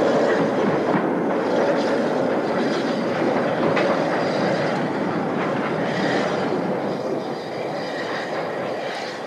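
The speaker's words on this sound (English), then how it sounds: "Having brought up some empties for BR, Hanbury pulls up to enable the fireman to reset the points." An 1894 Peckett saddle-tank steam locomotive hauls a rake of empty goods wagons along industrial track, its rumble and clanking wheels steady and close throughout with no voices.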